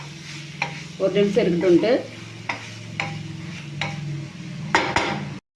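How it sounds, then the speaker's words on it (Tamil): Coriander powder masala being stirred in a pan for Mughlai chicken handi: close scraping strokes of a spoon and a soft sizzle, with a brief voice speaking near the start. "கொட்டி நல்லா கிளறி விட்டுட்டு"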